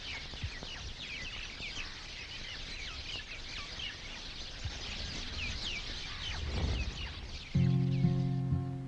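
Dense, overlapping chirps and calls from flocks of birds fill the air at a Bishnoi temple in India, steady and fairly loud throughout. A sustained musical tone joins near the end.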